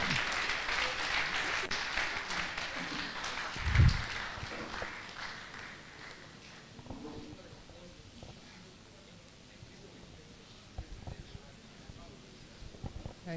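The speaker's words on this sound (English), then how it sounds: "A round of applause for her" Applause from an audience at a university valedictory programme as a plaque is presented, loud and fairly dense at first, then thinning into scattered claps, a thump and faint voices in the room.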